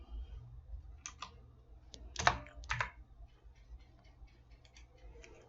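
Typing a command in AutoCAD 2023 on a computer keyboard produces a handful of crisp, close key clicks in short clusters, with one firmer tap like the Enter key, over quiet room hum.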